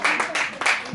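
Loud applause from an auditorium audience at a karaoke and fashion anniversary event, dense continuous clapping in a brief burst.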